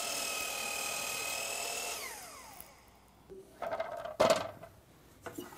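A miter saw cutting crown molding whines loudly, then its pitch falls as the blade spins down, followed by a few sharp knocks and clatters as the workpiece is handled.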